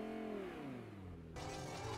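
Car engine in Fortnite revving, its pitch sliding downward as it winds through the gears, then a burst of louder, brighter engine noise near the end; fairly quiet overall, with no talk.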